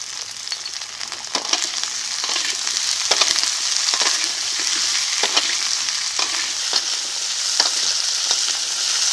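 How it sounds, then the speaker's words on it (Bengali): Okra and potatoes frying in oil in a pan give a close, steady sizzle, broken by regular scraping clicks of a spatula as they are stirred. "ভেন্ডি আর আলু ভাজা হয়ে গেছে এখন নামিয়ে নেব"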